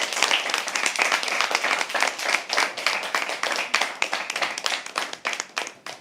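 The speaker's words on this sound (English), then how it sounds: "Can we please have a huge round of applause for him?" Sustained applause from an audience at a live poetry open mic, dense and close with overlapping hand claps that stay loud before thinning slightly toward the end.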